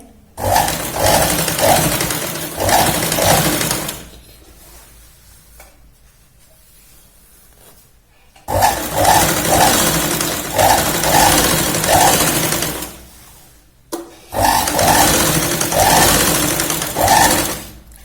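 A sewing machine stitching a double hem at the bottom of a salwar pant, loud and close, running in three long bursts of rapid rhythmic chatter separated by quiet pauses, with no talking.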